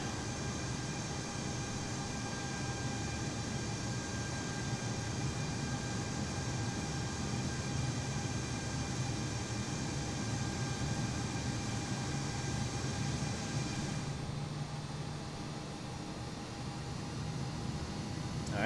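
Engines of an Iberia Airbus airliner in Microsoft Flight Simulator, ahead of a flight from Barcelona to Marseille, make a steady, dense jet roar with high whining tones that holds throughout, then eases slightly near the end.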